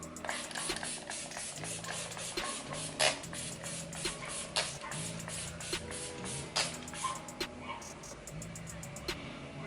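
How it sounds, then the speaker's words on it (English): XX Revolution Hydra Fixx setting spray misted onto a face in a series of quick, faint pump bursts repeating at a fairly even rhythm, with soft rustling handling noise between them. "I'm going to go in with the XX Revolution Hydra Fixx setting spray"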